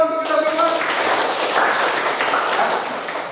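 A class applauding together after an accounting lesson, a dense wash of many hands clapping at steady strength for a few seconds, with a voice briefly heard at the start.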